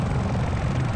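A military helicopter loaded with missiles in a video game gives off a steady, loud rotor and engine roar, close and continuous with no talk.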